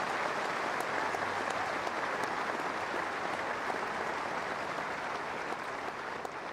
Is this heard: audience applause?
yes